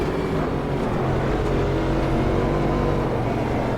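A Cadillac DPi race car in Automobilista 2 drones with a steady, loud engine note held at high revs for the whole stretch, with no voices.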